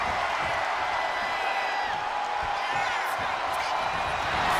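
Arena crowd noise from the WWE 2K25 wrestling video game, a steady roar of cheering that stays loud and constant beneath a commentator's voice.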